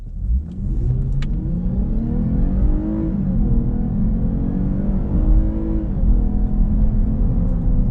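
A Lexus IS 350 F Sport accelerates hard from a stop, its engine revving loudly and climbing steadily through the gears with a strong, continuous roar and brief dips at the shifts.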